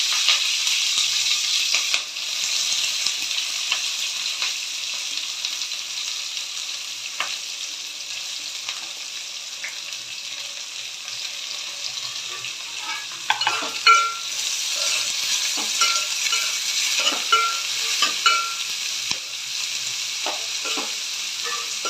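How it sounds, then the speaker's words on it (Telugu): Sliced onions and green chillies fry in oil for an egg curry with a steady, bright sizzle throughout, joined later by scattered scrapes and taps of a stirring spoon. "ఈ ఉల్లిపాయ ముక్కలు బాగా ఎర్రగా ఫ్రై అవ్వాలండి."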